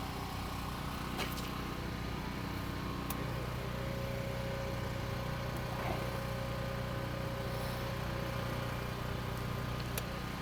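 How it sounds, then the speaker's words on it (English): A chink pump with a variable speed motor hums steadily and continuously while restoring an old log cabin, with a few faint clicks and knocks over the drone. "The pump has a variable speed motor, so we can adjust it and speed it up"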